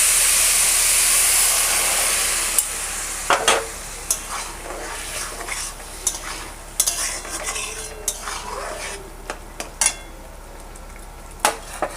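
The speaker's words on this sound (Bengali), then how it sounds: "এবার আমি এর মধ্যে গরম জল দেব।" Hot water is poured into a pot of hilsa pulao, giving a loud steaming hiss at first that fades into quieter bubbling with scattered clinks and scrapes of stirring.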